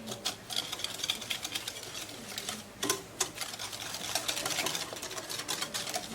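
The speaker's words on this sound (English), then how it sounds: "Alright, we're going to whisk these together." Eggs being whisked with white and brown sugar in a bowl for a pumpkin pie, a steady fast clatter and scrape of the whisk against the bowl running throughout at close range.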